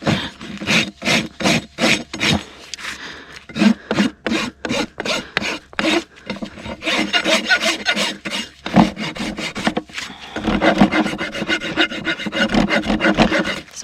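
A rasp files a mustang's hoof during trimming, rapid rhythmic scraping strokes close up in bursts, pausing briefly before a longer, denser stretch of rasping.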